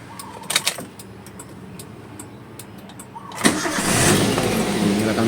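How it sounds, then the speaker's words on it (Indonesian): A car engine is started with the steering wheel being straightened, a few faint clicks and a quiet stretch, then the engine cranks and catches and settles into a steady close idle. "sebaiknya mesin dinyalakan agar power steeringnya bekerja ya"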